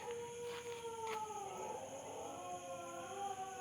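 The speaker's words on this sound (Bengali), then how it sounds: "কুকুর ডাকছে মধ্যরাত্রে" Dogs howl at night near a Shiva temple at Kankalitala, long wavering howls drawn out and overlapping at a moderate distance in a quiet setting, with no talking.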